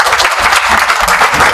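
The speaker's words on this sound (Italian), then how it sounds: "io farei un applauso" An audience at an Italian presentation introducing an artist and his works breaks into loud, dense applause, a continuous close wash of many hands clapping with no voices over it.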